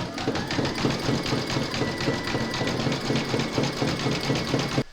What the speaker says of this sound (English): you're now going to stitch round number 4